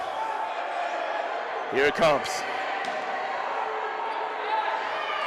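A steady, loud crowd din fills a gym at the NCDA cornhole nationals, with a sharp thump midway and a voice speaking close over the roar.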